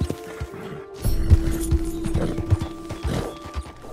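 A horse gallops in the video game Red Dead Redemption 2, with rhythmic clip-clop hoofbeats and some rattling tack and thuds. The sound is loud and close, with faint game ambience and no clear speech.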